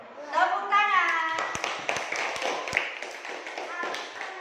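Students in a classroom clap their hands together in a short burst of applause, a quick patter of claps following a voice, fairly faint overall.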